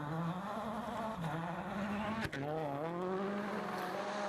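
Robert Kubica's WRC2 rally car at Rally Portugal 2013 roars past, its engine note climbing and dropping through gear changes, with a brief sharp crack midway.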